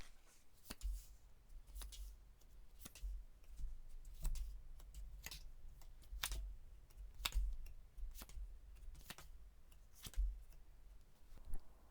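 Tarot cards are drawn and handled close up in a quiet room, giving soft crisp snaps and flicks at an uneven pace, with faint shuffling rustles between them and no speech.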